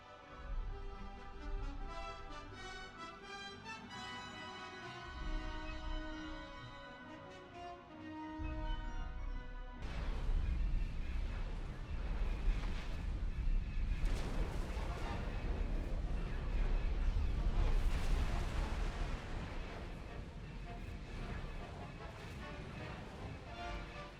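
A space station blows apart in the space game X4 Foundations: a sudden loud, sustained roar of rumbling explosions and crackling blasts cuts in over music and keeps going for many seconds.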